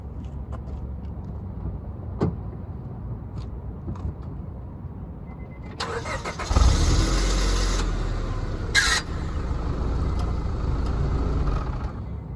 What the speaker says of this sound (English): all those noises was actually the supercharger kicking in